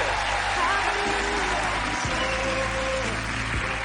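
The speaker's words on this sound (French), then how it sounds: "On peut les applaudir très très fort." A television studio audience claps steadily and fairly loudly throughout, a dense wash of applause with a few brief crowd noises mixed in.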